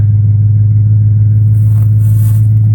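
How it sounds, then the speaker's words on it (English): A truck engine idles and rumbles at close range with a heavy steady low drone while the truck is moved up during tree felling with a snatch block. "He's gonna move the truck up."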